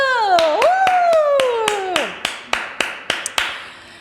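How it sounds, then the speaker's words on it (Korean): Close hand clapping opens a Korean hair-loss shampoo and treatment presentation: about a dozen crisp, evenly spaced claps follow a drawn-out exclaiming voice at the start. "박수!"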